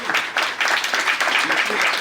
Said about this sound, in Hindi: देखिए ताली मिल रही है